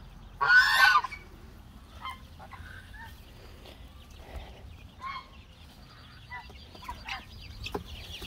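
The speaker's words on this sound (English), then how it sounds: "I've got some olive eggers in here and some naked necks" Backyard chickens, olive eggers and naked necks, let out one loud squawking honk up close, then keep up faint scattered clucks and murmurs under steady outdoor background noise.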